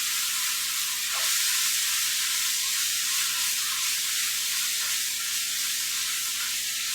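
A pork, rice and mushroom soup mix sizzles on the heat with a steady, loud, hissing fry that holds evenly from start to finish, with no voices.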